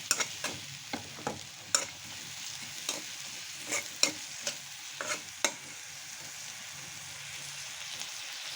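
Chopped onions frying in mustard oil for chicken bhuna, a soft continuous sizzle broken by repeated sharp scrapes and clicks of a spatula stirring in the pan, fairly quiet and close.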